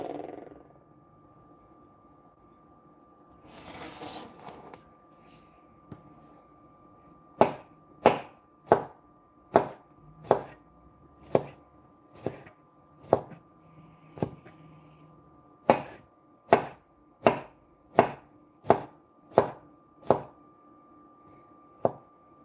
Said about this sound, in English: We'll mince these up.